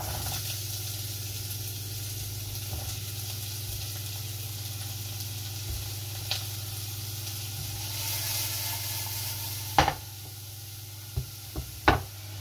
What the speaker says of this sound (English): So we need a drop of oil in the pan, one large diced red onion